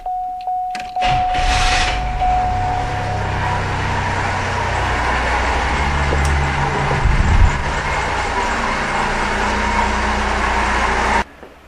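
Car engine idling steadily with its lights switched on, a continuous low rumble that holds through the whole stretch, starting with a brief electronic chime and ending abruptly.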